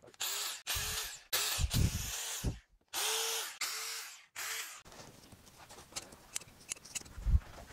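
Spray adhesive misted onto a high back chair during reupholstery for attaching Dacron, with several short hissing bursts in a broken rhythm, followed by quieter handling noises.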